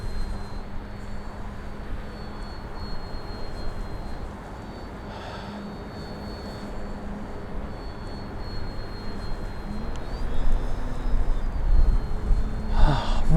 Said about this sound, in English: Oh, really nice airplane.